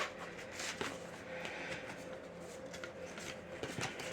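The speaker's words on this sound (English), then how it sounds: "these are hard to shuffle, y'all" Soft riffling and flicking of tarot cards being shuffled, quiet and close, with repeated light slaps and rustles.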